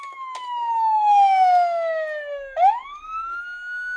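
A Motor Max 1/18 scale police interceptor toy car plays its electronic siren, a loud tinny wail that slowly falls in pitch, then snaps back and climbs again, heard alone and close.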